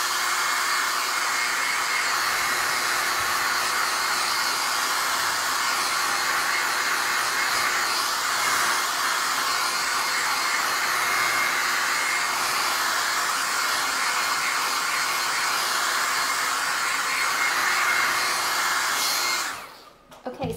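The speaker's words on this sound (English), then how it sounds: "Just gonna use the hairdryer for a minute to get it a little bit dry." A hair dryer blows continuously at close range with a steady, loud whirring hiss that cuts off abruptly near the end.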